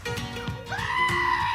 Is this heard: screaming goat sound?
yes